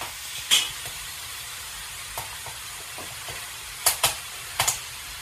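Chicken curry frying in a pan as it is stirred, a quiet background sizzle and steam hiss punctuated by sparse sharp scrapes and taps of a spoon, with a cluster of clacks toward the end.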